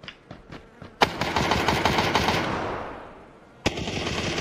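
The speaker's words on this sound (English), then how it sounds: "Alright, run by and start shooting." Automatic gunfire in the shooter game PUBG: a few single shots, then a sustained rapid burst that runs for about two and a half seconds and fades, followed by another sharp onset, loud and close, with no talking.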